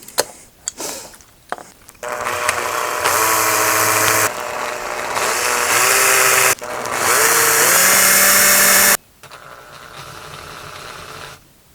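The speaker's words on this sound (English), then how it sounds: "then we'll go with the wider drill, and we'll take off that mushroom" A power drill drills out a rivet on a die-cast toy car, whining at high speed in long sustained runs, pitch dipping as it bites into metal, ending abruptly with quieter handling sounds after.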